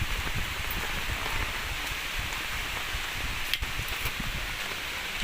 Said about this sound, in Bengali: বৃষ্টি নেমে গেছে, বৃষ্টির জন্য চলে যেতেছে